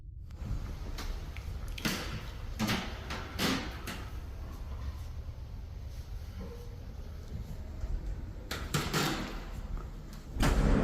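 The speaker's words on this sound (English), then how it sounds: "that door slamming shut, that was actually loud" A door slams shut loudly in a quiet indoor space during a scary nighttime recording, with several sharp thuds and knocks scattered through the clip and a final heavy bang at the end over low background hum.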